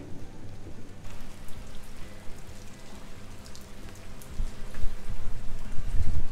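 Steady rain falls and patters on surfaces, a dense continuous hiss with soft drumming, growing slightly heavier toward the end.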